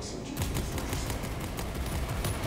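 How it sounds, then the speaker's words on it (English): Sustained bolter fire in Space Marine 2, a dense, loud stream of overlapping gunshots that carries on steadily without a break. "let's just open up with the bolter"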